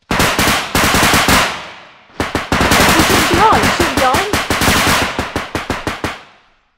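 Rapid gunfire in the video game Bodycam, set in open woodland: dense automatic bursts, then a pause, then more sustained fire breaking into separate spaced shots, loud and close, with no talking.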